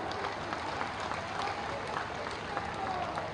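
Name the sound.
audience applause at an election rally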